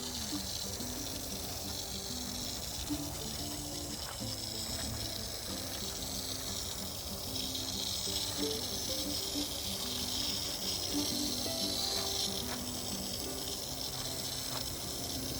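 Steady rushing, splashing water poured on backyard garden plants runs continuously throughout, dense and close, with a low mechanical hum underneath and no voices.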